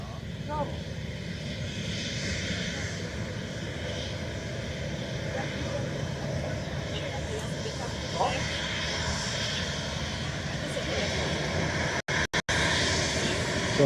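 Ryanair jet airliner at Dublin Airport, a steady, loud engine roar that holds throughout with a voice talking faintly beneath it.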